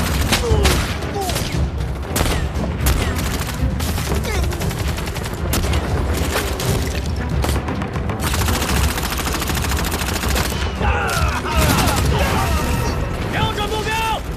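Gunfire volleys erupt in a Chinese TV drama battle scene. Dense, loud bursts of rifle and machine-gun fire crackle continuously, with shouted voices mixed in.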